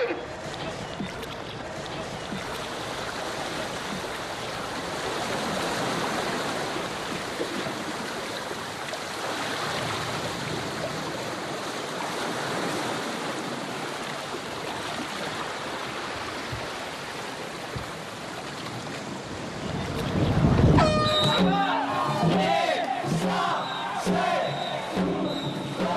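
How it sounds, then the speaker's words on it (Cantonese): A dragon boat race on the Shing Mun River in Sha Tin brings a steady wash of water and a murmuring, cheering crowd that swells louder near the end, with voices mixed throughout. "Sport 參加咗沙田城門河舉辦嘅龍舟比賽"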